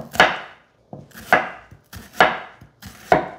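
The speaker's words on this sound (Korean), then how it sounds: "양파는 가늘게 채 썰어 주시면 좋습니다." An onion thinly sliced with a knife on a board: four evenly spaced crisp chops, each a sharp close thud with a brief crunch, separated by short pauses.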